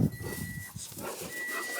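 Four pet dogs pant rapidly and steadily at close range, a breathy rhythmic huffing that continues through the whole moment.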